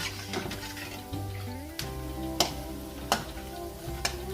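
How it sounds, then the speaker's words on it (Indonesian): Pempek Palembang fish cakes fry in hot oil, a steady close sizzle with intermittent sharp clicks and taps as the cakes are turned over in the pan. "ini kita goreng-goreng lagi, kita balik-balikin lagi ya, biar matangnya rata"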